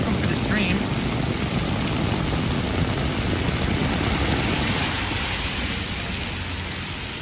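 Heavy rain pours down on a Manhattan street at night, a loud dense hiss of downpour on surfaces that stays constant throughout and fills the whole scene.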